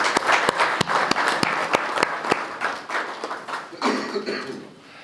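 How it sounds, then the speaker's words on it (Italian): Audience applause at an award ceremony begins with a few sharp, loud claps close by, then spreads into broad, dense clapping across the room that gradually thins and fades. "Un applauso a tutti."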